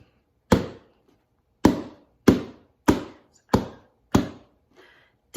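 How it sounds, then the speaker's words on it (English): A drum beats out a rhythm pattern for chanting the names of the thirteen colonies: about seven sharp, loud, close strikes with quick decays at uneven spacing, one noticeably softer, with no voices. "You should be able to hear the words 200 years ago in your head while I'm playing the drum part."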